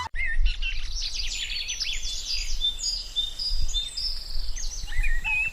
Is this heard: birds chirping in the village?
yes